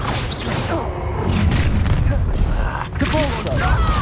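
In the video game Hogwarts Legacy, a Confringo fire-blast spell erupts in a loud, close booming explosion with rumbling combat noise, mixed with game voices.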